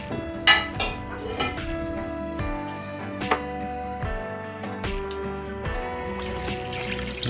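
Water is poured and measured glass by glass for a Saudi-style mutton kabsa, with splashing pours, clinks of glasses and metal pots, and ringing kitchenware knocks spread unevenly across the stretch.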